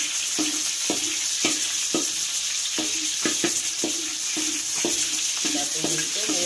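Spring onions sautéing in a hot pan for a pork meatball soup. A constant sizzle runs throughout, broken by regular clanks and scrapes of a spatula stirring against the pan, close and clear.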